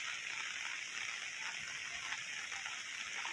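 Monsoon mountain waterfalls and a swollen, raging river, a continuous broadband rush of falling and flowing water, steady and fairly distant, with no voices.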